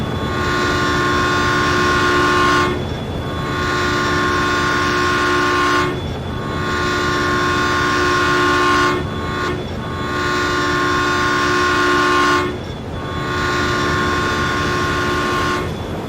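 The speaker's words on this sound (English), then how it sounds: "And we also have awesome trains." Long train rolling past in Farming Simulator on the Emerald Coast map, a loud steady rumble with tonal hum that briefly drops out at regular gaps between cars.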